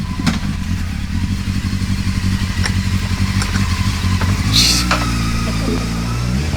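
Motorcycle arriving, a steady low engine rumble with a brief rising rev and clatter near the end, fairly loud and close, with no voices over it.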